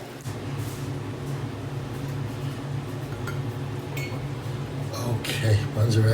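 A metal baking pan of buns comes out of the oven with clinks and clatters of dishes, pots and cutlery over a steady low kitchen hum, sounds growing louder toward the end.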